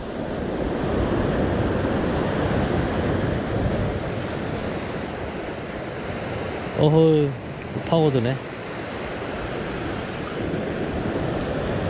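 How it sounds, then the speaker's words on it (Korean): Ocean waves surge and wash steadily onto a rocky Sydney shoreline during shore fishing, a loud continuous roar with wind buffeting the microphone, while a voice calls out briefly twice over the surf. "파도 올 때까지 좀 기다려야 됩니다."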